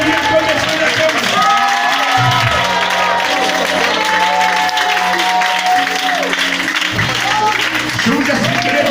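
A church congregation at a worship service applauding and cheering loudly, with a dense wash of clapping and crowd noise throughout and voices talking over it.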